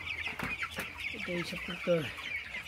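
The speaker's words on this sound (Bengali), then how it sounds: "এখানে 10টা মুরগি কিন্তু দেখতে অনেক সুন্দর, তরতাজা, খুব ভালো আছে" A few chickens on a poultry farm cluck in short, close, rhythmic bursts, with a murmuring flock and faint voices in the background.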